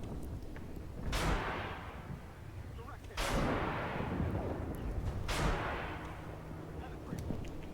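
Three heavy tank cannon blasts in the video game Armored Warfare boom at roughly two-second intervals, each with a sharp crack and long rumbling decay, set against a low steady background.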